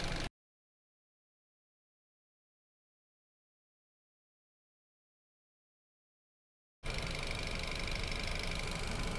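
The engine of a used car idles with the hood open, giving a steady, close mechanical hum. It is heard only briefly at the start and again over the last couple of seconds, with a long silent gap between.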